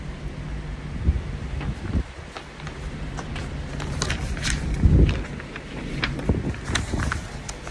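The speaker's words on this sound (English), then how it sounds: "It's a little bit windy outside here today en route to Hawaii." Wind buffets the microphone outdoors in uneven gusts, with low rumbling and occasional thumps and rustles, no talking.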